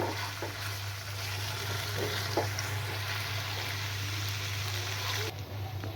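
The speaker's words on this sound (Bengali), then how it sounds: "একটু সময় নিয়ে এই মশলাগুলো আমি ভালো করে ভাজবো।" Ground spice paste fries in a pan with a steady, soft sizzle and bubbling over a constant low hum, continuous and close with little change.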